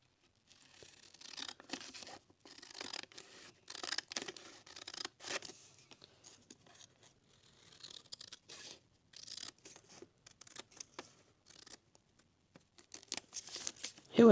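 Scissors snip through paper for a card-size travellers notebook in a long run of close, quiet, crisp cuts and rustles, irregular and unhurried, with a louder clack at the end.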